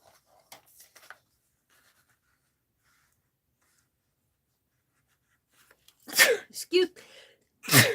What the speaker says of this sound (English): Every time I sneeze, I gotta sanitize my hands.